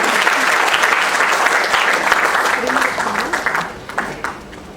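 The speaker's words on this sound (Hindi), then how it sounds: "सादर आमंत्रित करती हूँ जोरदार तालियों से" A lecture-hall crowd applauds to welcome a retired Wing Commander to the stage, a loud, dense round of clapping that thins into scattered individual claps as it fades out.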